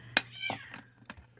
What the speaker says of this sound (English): Excuse the cats, they're being cats.